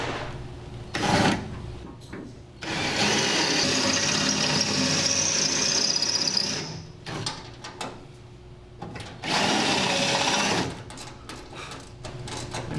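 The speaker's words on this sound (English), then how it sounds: "try to drill halfway through so that I'm only drilling through the bracket and not the hood inner shell" A power drill with a 5/16 inch bit cuts into a steel hood bracket over a spot weld. The drill runs in several separate bursts of whining, grinding noise with quiet pauses between them, and no one speaks.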